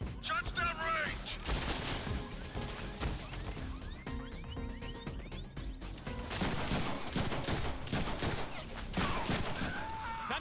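Rapid bursts of gunfire and crashing impacts from the 2013 Deadpool video game on PC, dense and loud throughout, layered with game music, with a voice talking over the shooting.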